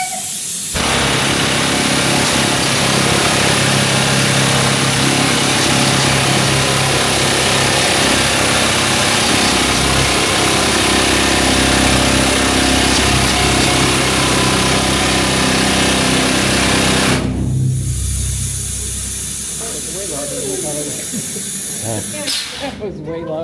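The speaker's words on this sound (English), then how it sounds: "I will be starting the drill" A loud, hissing air-powered drill runs continuously for about seventeen seconds, roaring and steady, then cuts off into quieter background noise.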